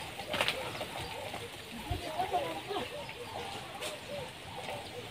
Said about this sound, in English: I love listening to the birds singing.